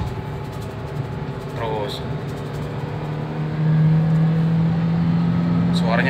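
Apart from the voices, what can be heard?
Toyota Avanza 2015 engine accelerating in second gear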